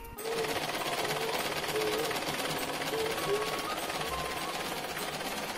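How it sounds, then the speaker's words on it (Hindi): A sewing machine stitches at home in Uttarakhand, a steady mechanical whirring rattle running continuously under faint background sounds and occasional voice tones. "यहाँ पर अभी सिलाई हो रही है"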